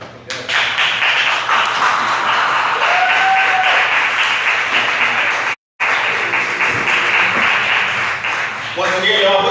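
Audience applause at an open mic poetry night, a sustained roar of clapping from a crowd with a brief cut near the middle, loud and dense throughout, with cheering voices mixed in.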